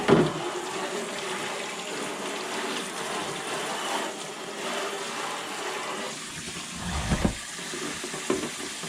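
Warm water runs steadily from a tap during the cleaning of the inside of an RC car body with dish soap, a continuous close splashing rush with a few knocks and clatters near the end.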